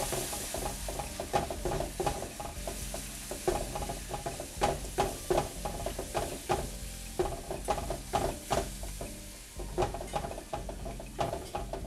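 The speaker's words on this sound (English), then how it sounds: "I'm gonna add 2 cups of beef broth." Beef broth hits a cooking flour roux in a pan for leftover meatloaf gravy, giving a continuous close sizzle broken by busy, irregular scraping and stirring clatter throughout.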